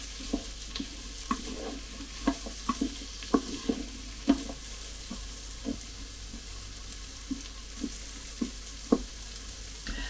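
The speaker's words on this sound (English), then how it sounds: "once I can smell the garlic cooking, I'll know it's time to add in everything else" Garlic sautéing in a Cosori pressure cooker, a quiet continuous sizzle broken by a dozen or so soft scraping taps of a utensil stirring it at an uneven pace, with no voices.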